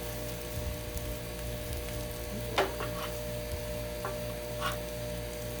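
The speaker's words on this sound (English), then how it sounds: "Spread it out so it gets some of that." Shrimp fried rice sizzling on a Blackstone griddle, a steady hiss and crackle of frying rice throughout, with a few sharp spatula scrapes and clinks standing out near the middle and toward the end.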